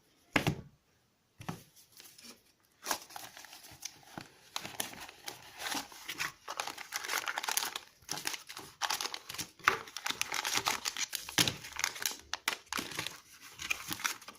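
Plastic bags from the accessory box of a Flysky Nirvana NV14 radio transmitter crinkle and rustle as they are unpacked, close and steady with brief pauses, including a short quiet gap near the start.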